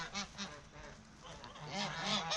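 Geese honk repeatedly in short nasal calls on a farm, a few birds overlapping, heard faintly from some distance with a soft rushing background.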